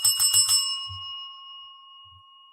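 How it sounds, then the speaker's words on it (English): A bell rings in a quick run of bright, close strikes, then one more chime, leaving a long clear tone that slowly fades. "It's like literally the bells are ringing right now."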